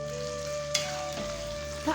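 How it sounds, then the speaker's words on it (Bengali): Chicken cooks with ground spices in a pan, giving a low, steady sizzle under a faint background hum, with a couple of brief clinks from stirring and no speech. "আমি খালি গুঁড়ো মশলাগুলো দিয়ে মাংসটাকে ভালো মতো রান্না করে নিলাম"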